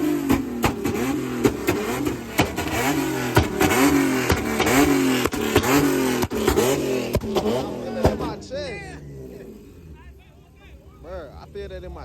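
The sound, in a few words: loud car engine revving at a car show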